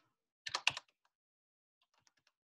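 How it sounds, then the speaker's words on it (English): Quick burst of computer keyboard typing, several rapid close keystrokes in a cluster, then a few scattered light taps after a pause, in an otherwise quiet room. "I'm going to type it in here."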